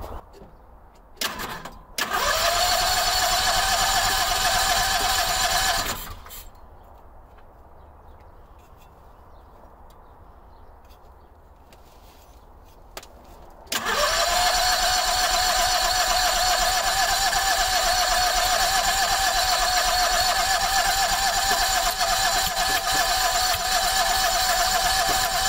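Howard Price Maverick 620 mower engine cranks and fires twice, each burst a loud steady mechanical drone lasting several seconds, separated by a quieter idle-like pause with no talking.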